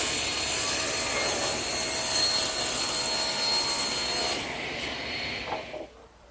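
A saw cross-cuts a wood panel to 18 inches in a woodworking shop, making a steady, loud, high-pitched whine for about four seconds before the cut finishes and the blade spins down and fades out.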